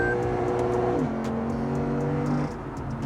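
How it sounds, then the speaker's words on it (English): A Lexus RC F V8 engine revs and holds a strong, deep drone, dropping pitch with a gear change near the one-second mark and again shortly before the end, loud and steady, with no talking. "this is pure V8 sound, pure muscle. There is no artificial sound coming in through the speakers"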